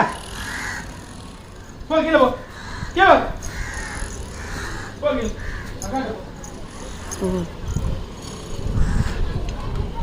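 Several crows caw in short harsh bursts, loudest around the middle, with people talking nearby and background noise throughout.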